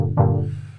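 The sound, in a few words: FM synth chord rack in Ableton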